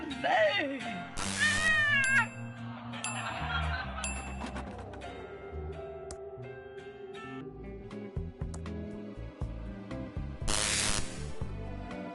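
A cat meows in the video game Thimbleweed Park, drawn-out wavering cries mixed with game music and sound effects, a voice speaking at times.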